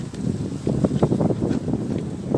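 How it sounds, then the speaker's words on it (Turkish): Strong gusts buffet the microphone in rough, low rumbling bursts that swell and fade unevenly. "Evet arkadaşlar bayağı bir rüzgar var."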